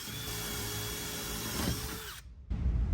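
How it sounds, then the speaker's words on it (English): A power drill whines steadily as it bores a 1/4 inch hole through pontoon deck trim and plywood decking, pitch sagging briefly under load before the motor stops, followed by a low thump. "I'm going to drill this all the way through the deck trim and the plywood deck"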